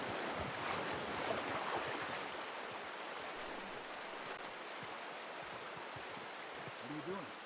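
Rushing river water churns steadily as a horse wades across in Red Dead Redemption 2, a dense, even wash with a few faint splashes and low bumps near the end.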